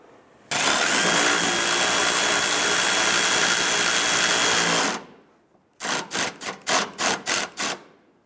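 Power tool snugging down bumper bolts on a 2005-2010 Chrysler 300, with one long steady whir lasting several seconds, then a pause and a series of short rhythmic bursts, loud and close.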